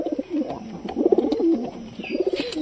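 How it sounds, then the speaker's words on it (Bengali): Desi pigeons inside a loft give soft, throaty cooing calls in repeated rolling bursts close by, with light rustling and no talking. "তো কবুতরের কাছে যাই, চলো দেখি কবুতরের"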